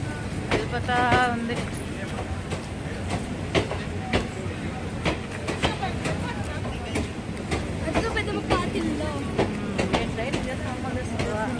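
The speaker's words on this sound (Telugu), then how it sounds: "ట్రైన్ వెళ్ళిపోతా ఉంది." A train rumbles past with rhythmic clacking of wheels on rails, steady and fairly close, with faint crowd chatter in the background.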